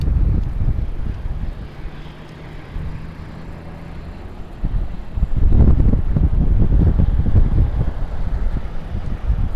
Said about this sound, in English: Still pretty windy today.